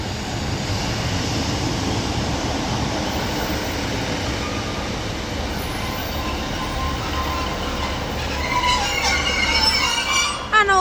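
Northern Class 156 diesel train at Blackburn station, a continuous rumbling engine and rolling wheels up close, with squealing and rising tones near the end.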